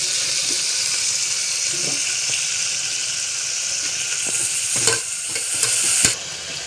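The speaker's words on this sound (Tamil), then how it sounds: "பார்த்திங்கன்னா தக்காளி வெங்காயம் நல்லா வணங்கிடுச்சு" Tomatoes and onions with rock salt sauté in a pan for vegetable biryani, a loud continuous sizzle with stirring scrapes and a couple of sharp utensil knocks near the end.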